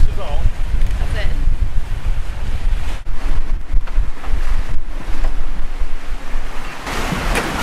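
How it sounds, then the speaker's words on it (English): Strong, sustained wind roars across the microphone aboard a sailboat at sea, with waves rushing and slapping against the hull, loud and continuous throughout. "The wind was not predicted to be this intense, this long."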